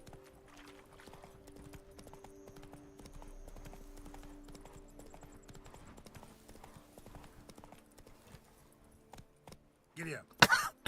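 Steady rhythmic clip-clop of a horse's hooves galloping through the Witcher 3: Blood & Wine game world, continuous and mid-level over a faint background, ending in a few loud bursts.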